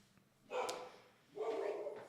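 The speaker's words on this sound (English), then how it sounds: "there's a dog" A dog gives two faint, separate barks at a distance, each trailing off, with quiet room background between them.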